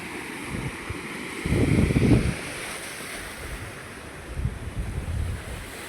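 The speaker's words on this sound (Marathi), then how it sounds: "पाणी चाललंय जोरात." Fast water rushes along a full river in a continuous broadband roar, with gusty surges of wind buffeting the microphone around the middle and near the end.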